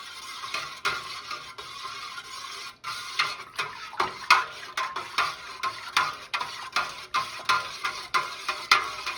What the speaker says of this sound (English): So stir vigorously with the slotted spoon.